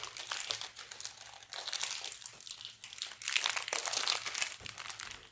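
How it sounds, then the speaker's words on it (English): A package of Monterey Jack cheese being opened, with close plastic crinkling and crumpling that swells and fades in bursts over several seconds, alone without speech. "I'm going to open the Monterey Jack."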